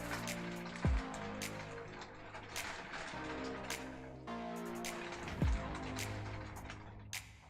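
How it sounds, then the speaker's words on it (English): Steady rain falls outside, a soft continuous patter of drops with scattered sharper ticks, heard from indoors at moderate distance, with a couple of brief louder knocks and no talking. "That rain is back again, man."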